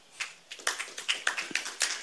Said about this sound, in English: Let us give a big applause to the Byung Se-yoon